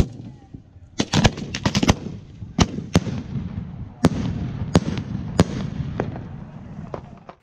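A fireworks show going off, with a string of sharp, loud bangs and crackling bursts spread irregularly over a steady rumbling bed of explosions.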